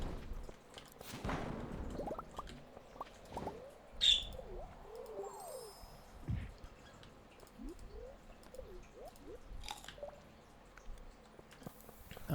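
Morning birds in the video game Stardew Valley, with scattered soft chirps, tweets and cooing calls spread across a quiet, faint background.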